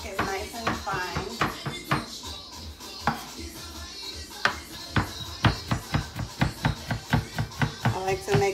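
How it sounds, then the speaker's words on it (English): Knife chopping garlic finely on a cutting board while making Trinidadian doubles, a run of quick, sharp, close taps that speeds into a steady rhythm, with a voice talking over the earlier part. "So we're gonna chop up this garlic, make sure the garlic is nice and fine."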